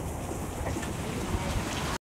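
Heavy rain pours steadily over a parking lot with a river-like stream of runoff, a dense, even hiss of drops that stays constant and close for about two seconds before cutting off.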